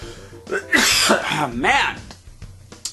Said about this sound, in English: Pardon me, I still have that cough.